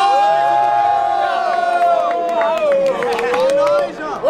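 Crowd at a rap battle grand final in Brazil cheering and whooping, with scattered claps and a prominent sustained voice over the loud, continuous crowd noise.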